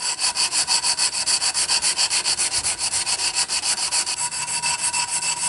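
A knife handle is sanded with sandpaper wrapped around a 3/4 dowel, producing steady, rhythmic back-and-forth scratchy strokes, close and loud, several per second without pause.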